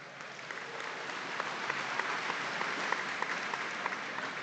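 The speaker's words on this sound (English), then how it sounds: "Let's give them all a round of applause" Steady applause from a crowd at the Nebraska State Fair 2025 FFA event, sustained, moderately distant and even throughout with a few sharper claps poking through.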